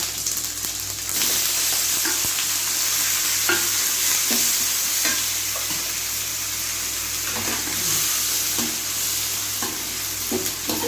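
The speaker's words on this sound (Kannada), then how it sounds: "ಚೆನ್ನಾಗಿ ಫ್ರೈ ಹಾಕ್ಬೇಕು ಟೊಮೆಟೊ ಗೊಜ್ಜು ಟೊಮೆಟೊ ಚಟ್ನಿ" Tomatoes frying in a pan for hotel-style tomato chutney, a loud continuous sizzle and hiss with repeated clinks and scrapes of a stirring spoon, close up and without speech.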